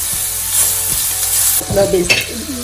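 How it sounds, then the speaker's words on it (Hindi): Butter sizzles steadily in a pan with a fairly loud, close hiss while a spoon stirs and scrapes. Soft clinks and scraping come near the end. "अब इसमें 2 चम्मच बटर के डाल देंगे, 2 चम्मच बटर का डाल दिया। अब इसको थोड़ा सा फ्राई करेंगे, हल्का सा सौते करेंगे।"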